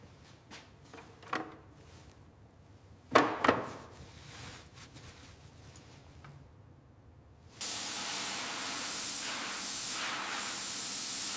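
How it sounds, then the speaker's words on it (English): Spray flushes corrosion and dirt out of the steering head of a 2002 Ducati Monster motorcycle. Some scattered clinks and handling knocks come first, then a loud, steady, close hissing spray starts and holds to the end. "flushing out this steering head"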